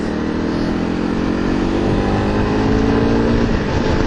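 A Honda CRF250L Rally motorcycle rides steadily, its single-cylinder engine droning at a constant pitch up close with wind rush, and no talking.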